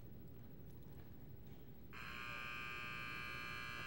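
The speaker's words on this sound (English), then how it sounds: "you hear the buzzer sound" An arena timer buzzer at a championship show in Amarillo, Texas blares loud and flat suddenly after a stretch of muffled ambient noise and holds steady to the end.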